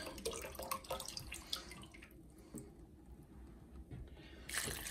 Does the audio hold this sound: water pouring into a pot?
yes